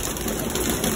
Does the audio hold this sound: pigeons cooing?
yes